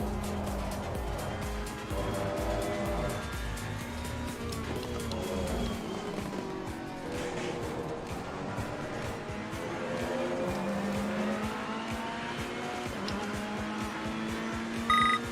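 A race car runs a lap in Assetto Corsa Competizione, its engine note rising and falling through gear changes as it speeds up and brakes. The sound is steady and moderately loud, with no voices.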